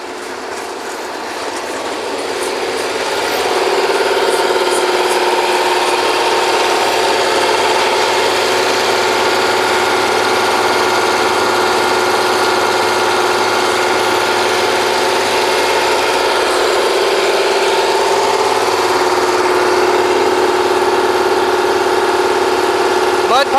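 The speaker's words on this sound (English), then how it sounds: "Mud pumps, mud pump 1 and mud pump 2." A heavy, steady mechanical drone from mud pumps running on a historical kelly drilling rig, building over the first few seconds and then holding loud and continuous with a rhythmic clatter.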